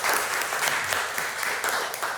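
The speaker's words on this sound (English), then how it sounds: "Let's give a round of applause for his presentation." Audience applause after a talk on writing device manuals, a steady moderate wash of many hands clapping, fairly even and continuous over a couple of seconds.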